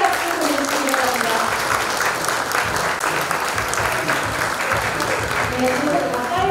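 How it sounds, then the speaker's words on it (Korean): Sustained audience applause fills the hall at a regional signing ceremony where seven cities pledge cooperation, a dense steady clapping from a large crowd with no pauses. "큰 박수 보내주시기 바랍니다."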